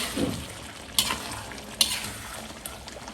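Butter and ghee stirred into mutton karahi in a Lahori-style karahi pan, a soft steady sizzle with a few sharp metallic scrapes and clinks of a spoon against the pan.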